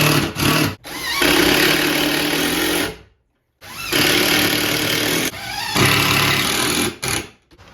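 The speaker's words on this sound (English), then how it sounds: "Love the sound of an impact gun." A cordless impact gun driving fasteners while shelves are mounted to the side of a handmade walnut vanity, loud and close, running in two long bursts with a brief silent gap and short stops and starts around them.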